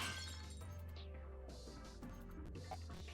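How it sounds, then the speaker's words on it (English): A glass shield shatters in a video game: a bright crash of breaking glass with a falling sweep, then scattered tinkling shards over a low steady hum, no voices. "The glass is broken."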